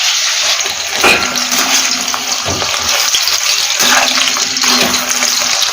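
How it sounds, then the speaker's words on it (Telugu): Ivy gourds (tindora) fry in a pan with oil and chilli powder, giving a loud, continuous sizzling hiss with no talk over it. "ఇలాగా ఫ్రై చేస్తాం దొండకాయలు"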